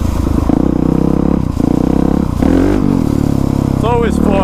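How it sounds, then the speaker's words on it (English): A Ducati dirt bike engine revs while being ridden, a loud, close, buzzing roar that rises and falls through several throttle bursts, with a brief rev climb near the end. "It's always fun fishtailing on a dirt bike though."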